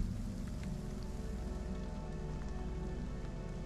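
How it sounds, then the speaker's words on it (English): Steady rain falls in a video game, a dense, even hiss of drops on surfaces that stays constant throughout, with no talking. "Doesn't help that it's such a rainy, gloomy day."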